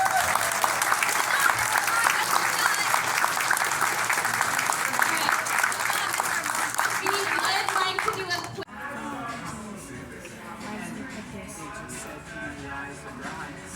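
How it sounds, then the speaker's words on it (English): A round of audience applause claps loudly and densely for about eight seconds, then gives way to quieter room sound with voices. "So he deserves a big old round of applause as well."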